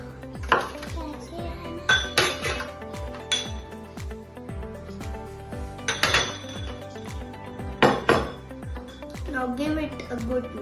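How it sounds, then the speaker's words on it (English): Sandwich filling is stirred with salt, black pepper and chili flakes in a bowl, giving repeated clinks and scrapes of a utensil against the dish in a steady rhythm, with a voice speaking over it. "Now give it a good mix."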